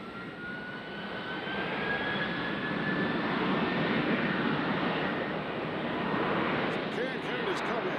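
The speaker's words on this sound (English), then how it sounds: "United is taxiing now." A United airliner's jet engines taxiing at Nashville airport, a steady broad roar with a rising whine, heard from a distance under continuous talk.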